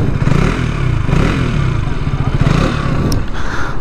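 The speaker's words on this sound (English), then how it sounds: "Let's fire it up. Let's listen to the exhaust." A 2022 KTM RC 200 motorcycle engine runs steadily at close range, a deep throbbing exhaust rumble with slight clatter, holding an even idle throughout.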